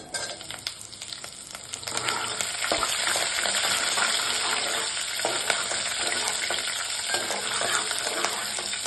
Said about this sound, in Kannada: ನೋಡಿ, ಹಸಿಮೆಣಸಿನ್ಕಾಯಿ ಹಾಕ್ಕೊಳ್ತಾ ಇದ್ದೀನಿ.